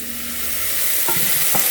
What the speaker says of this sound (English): anything I make with mushrooms and onions, I saute them together